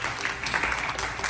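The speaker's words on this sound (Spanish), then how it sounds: "Aplausos, por favor." Applause from an audience at a church gathering, a dense wash of clapping that holds steady for a moment.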